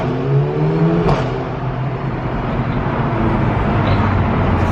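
A Mercedes-Benz A45 AMG accelerates hard inside a tunnel, its engine note climbing and droning loud and close throughout, echoing off the walls with a brief sharp pop near the start.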